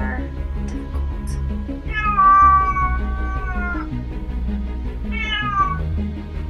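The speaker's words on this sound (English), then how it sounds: "That is my demon child, my cat." A cat meows loudly twice, one long drawn-out yowl followed by a shorter cry a couple of seconds later, close by over a low steady background hum.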